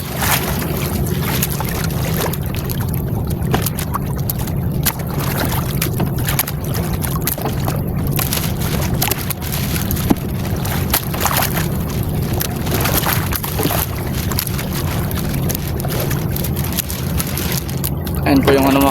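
A continuous low engine rumble of a fishing boat on open sea, with wind buffeting the microphone and occasional voices.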